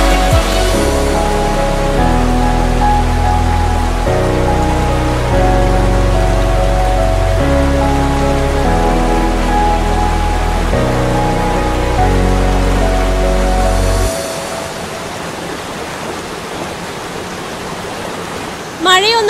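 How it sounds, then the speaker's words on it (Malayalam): Karakkund waterfall at Paravoor in Kadannappally-Panapuzha panchayat, swollen after heavy rain, gives a steady broadband rushing roar. Music plays over it at first, then the water is heard alone for the last few seconds. "മഴയൊന്ന് ആർത്ത് പെയ്തപ്പോൾ തന്നെ തന്റെ എല്ലാ സൗന്ദര്യവും വീണ്ടെടുത്തിരിക്കുകയാണ് കാരക്കുണ്ട് വെള്ളച്ചാട്ടം"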